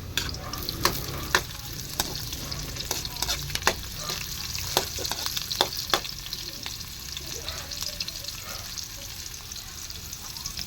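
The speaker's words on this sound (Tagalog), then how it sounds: "Ginigisa na po natin ng bawang, sibuyas, luya." Garlic, onion and ginger sauté in a pan with a soft, steady sizzle, broken by frequent sharp clicks and scrapes of a utensil against the metal as the mix is stirred.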